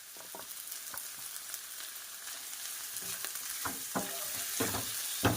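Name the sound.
sabudana cooking in a pan with ground peanuts added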